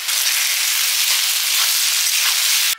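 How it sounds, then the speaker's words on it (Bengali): Potato pieces seasoned with salt and turmeric fry in hot oil, giving a loud, steady broadband sizzle that holds evenly then cuts off abruptly at the end. "আলু ভাজা হয়ে গেছে, তুলে নিচ্ছি।"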